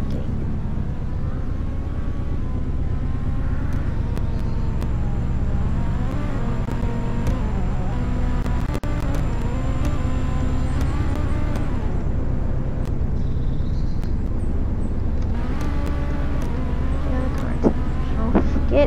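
A car engine in the Roblox game Greenville runs continuously, a steady low drone with slowly shifting pitch that sits under bits of talk across the whole stretch.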